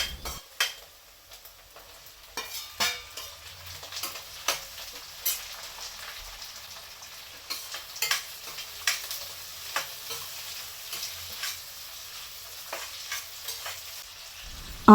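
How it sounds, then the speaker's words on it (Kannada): Onion and a vegetable stir-fried in a pan, a spatula scraping and tossing in repeated sharp strokes over a soft steady sizzle, close by with no talking. "ಹಾಕಿದ ನಂತರ ಚೆನ್ನಾಗಿ ಮಿಕ್ಸ್ ಮಾಡಿ ಫ್ರೈ ಮಾಡಬೇಕು"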